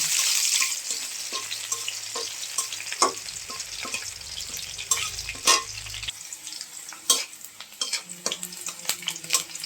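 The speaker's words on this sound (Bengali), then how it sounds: "পেঁয়াজটা ভাজা হয়ে গেছে" Onions fry in a pan on a village kitchen stove, a continuous close sizzle broken by frequent scraping and tapping of a spatula as they are stirred.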